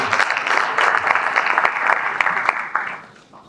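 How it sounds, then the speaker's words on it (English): Audience members at a regional investment conference clap in a dense, sustained round of applause that fades out over the last second, with a voice briefly audible. "So let's give her a round of applause."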